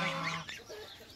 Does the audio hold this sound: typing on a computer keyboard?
no